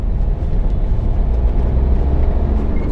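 A car driving at high speed, steady loud engine and road rumble filling the low end throughout, close and continuous with no breaks.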